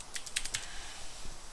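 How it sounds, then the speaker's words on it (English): Quick bursts of typing on a computer keyboard while entering Linux config commands, a handful of light clicking keystrokes close by, quiet and with no talking. "Keyboard's getting away on me today."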